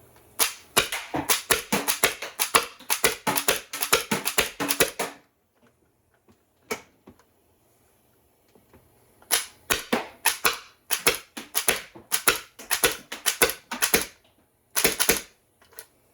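Semi-automatic 3D-printed HPA Nerf blaster with a leaky air fitting firing several bursts of sharp, rapid pneumatic cracks, close and loud, with a pause between magazines and no talk.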